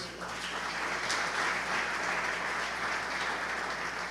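Congregation applauding in a church service, a steady dense wash of clapping that holds for several seconds at moderate volume with no clear individual claps standing out.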